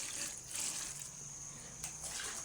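Water misted from a sprayer over filtered beans in a kitchen, a few hissing bursts of fine spray, close and moderately loud, one sharp burst near the end, with no talk.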